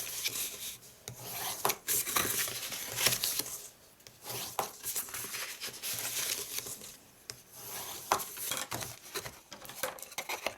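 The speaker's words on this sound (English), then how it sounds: "So let's fold and burnish our score lines on this piece." Cardstock is folded and burnished along score lines, giving repeated dry rubbing and scraping strokes with short pauses between them, close and fairly quiet.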